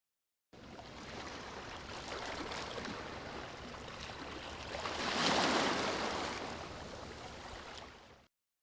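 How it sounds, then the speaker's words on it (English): Ocean waves wash in as a steady broadband roar that swells into one louder crash midway, then eases back, with no voices. "How waves crash."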